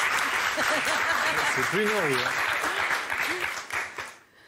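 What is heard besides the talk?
TV studio audience applause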